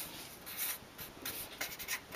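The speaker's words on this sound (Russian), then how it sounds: "Пишу объем головы" A pen scratches over paper as a head measurement is written down by hand, in short, close strokes that rise and fall without pause for about two seconds.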